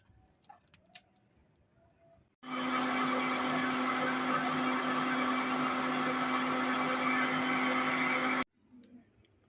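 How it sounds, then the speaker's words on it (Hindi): A mixer grinder whirs as it grinds roasted spices for a fish fry: one loud, steady roar lasting about six seconds that starts and cuts off abruptly, with a quiet room before and after. "उसके बाद इन मसालों को पीस लेंगे"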